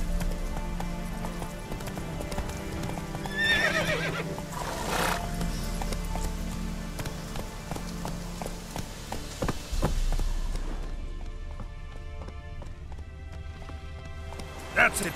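Roach the horse galloping in The Witcher 3, rhythmic hoofbeats with snorts and a whinny, layered over game music and ambient rain-like patter, with a voice speaking partway through.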